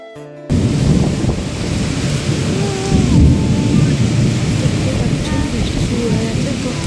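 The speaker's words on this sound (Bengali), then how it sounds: "বৃষ্টি শুরু হয়ে গেছে।" A steady, dense rainfall begins suddenly at a home and continues loud and close with a broad rumbling roar that could be thunder or heavy downpour.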